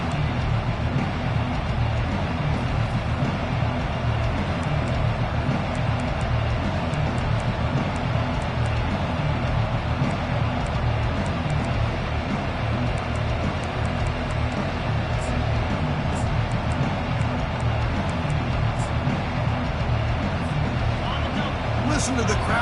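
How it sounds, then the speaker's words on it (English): Steady, dense stadium crowd roar from a Madden football video game, a continuous broad wash of noise running unbroken and fairly loud throughout, with faint voices mixed in. "Listen to the crowd energy here in the early going."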